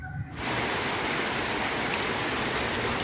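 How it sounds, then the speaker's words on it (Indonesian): Heavy rain suddenly comes down in a dense, steady hiss of drops at night outside an old house, loud and continuous after a brief quieter moment at the start. "hujannya lumayan deras"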